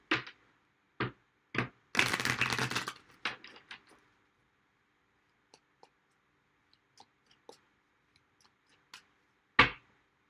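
Tarot cards being shuffled indoors, with a dense riffling burst of a second or so among sharp isolated taps and card clicks, then faint scattered ticks and one last firm snap, with no talking.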